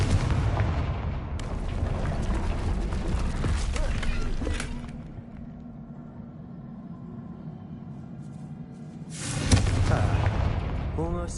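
A Confringo blasting curse goes off in a Harry Potter video game, a loud booming burst with rumbling debris that fades to a low hum, then a second heavy blast near the end.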